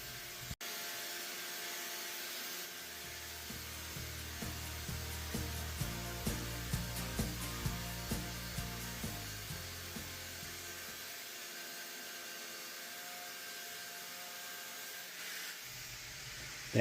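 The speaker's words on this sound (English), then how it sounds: "The angle grinder was the fastest way to get the eye back in a symmetrical shape." An angle grinder reshapes the eye of a forged Viking axe head. A steady high whine runs throughout, and a series of rhythmic, rising and falling pitch steps in the middle shows the load changing as the steel is worked.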